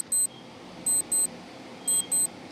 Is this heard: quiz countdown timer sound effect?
yes